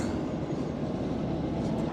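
A train arriving at a quarry, heard as a steady low rumble and rolling roar of rail wagons that holds even and continuous, with no talk over it.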